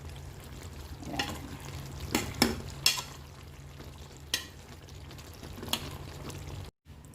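A spoon scrapes and clatters in a pan of old-style pork menudo as it is stirred, with a few sharp knocks over a steady low simmer and sizzle, no talking.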